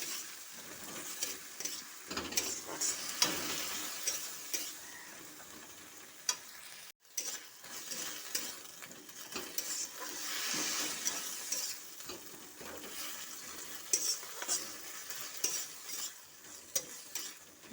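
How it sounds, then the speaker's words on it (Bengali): Dried chili paste and ginger paste being stirred around a hot pan while preparing a pointed gourd (potol) dish, a steady scraping sizzle with repeated spoon strokes that stays moderately close throughout, with a brief gap near the middle. "তারপরে দিয়ে দিচ্ছি শুকনো লঙ্কা বাটা আর আদা বাটা, লঙ্কা বাটা, ভালোভাবে মিক্স করে নিচ্ছি।"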